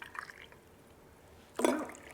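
Hot water poured into a mug for a hot colada made with homemade pineapple liqueur, a soft trickle that swells into a louder, brighter splash of filling liquid, close up with no talking.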